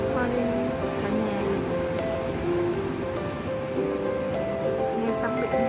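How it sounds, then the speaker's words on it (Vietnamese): Morning sea waves wash onto a beach in a soft, continuous murmur, with voices chatting over the surf throughout. "Nghe sóng biển rì rào vào buổi sáng."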